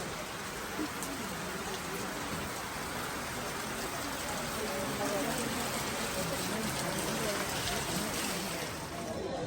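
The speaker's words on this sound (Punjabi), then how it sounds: "ਇੱਥੇ ਮੀਂਹ ਪੈਂਦਾ ਹੀ ਰਹਿੰਦਾ ਹਰ ਵਕਤ" Steady mountain rain on the trail from Hemkund to Gobind Dham falls throughout, a dense even hiss of drops on surfaces with no clear pauses.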